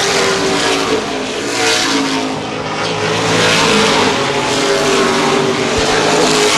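Late model sportsman race cars roar around the Baer Field Speedway oval during a 50-lap CRA Gold Cup race, a dense, loud, continuous engine drone that swells and fades as the pack passes.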